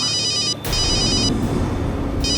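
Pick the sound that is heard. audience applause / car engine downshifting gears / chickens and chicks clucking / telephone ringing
telephone ringing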